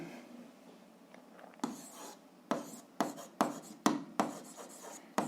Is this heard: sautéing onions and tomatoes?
no